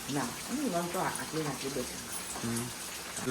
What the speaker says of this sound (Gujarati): વધારે વરસાદ આવ્યો હોય એવું લાગે છે